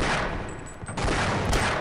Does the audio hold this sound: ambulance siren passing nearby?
no